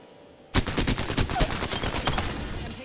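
Video game gunfire erupts suddenly after a quiet moment, a loud, rapid barrage of close shots that continues without pause.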